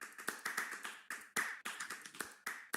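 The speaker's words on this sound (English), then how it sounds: "Okay, everybody, please give applause." Sparse applause from a small symposium audience gives a run of distinct, separate claps in an uneven rhythm, close and moderately loud, with no voices over it.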